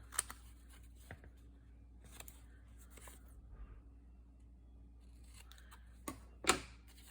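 Scissors snip a small piece off a paper tag. A few faint, scattered cuts and small clicks sit over a low background hum, ending in one sharper snip near the close, with no talking.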